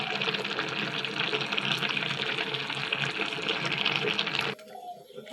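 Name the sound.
water draining from boiled taro greens in a basket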